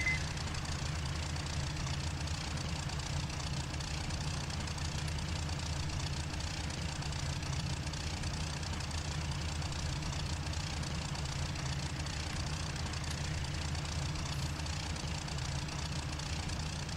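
Aircraft engine running steadily in IL-2 Sturmovik 1946 during a Pearl Harbor attack mission, a continuous loud low drone with rough mid-range texture that holds unchanged throughout, no voices.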